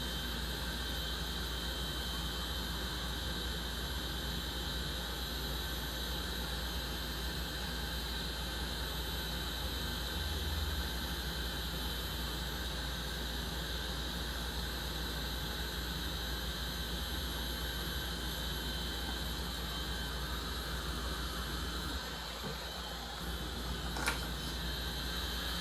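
A Milwaukee M18 cordless heat gun runs steadily for the whole stretch, a constant close whooshing fan roar with an even level that dips only briefly near the end.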